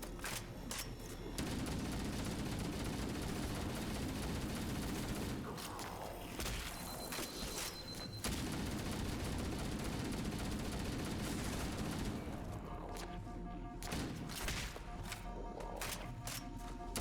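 Rapid rifle gunfire in Halo: Combat Evolved crackles in dense automatic bursts, with brief pauses and clattering impacts and mechanisms between volleys, loud and close throughout.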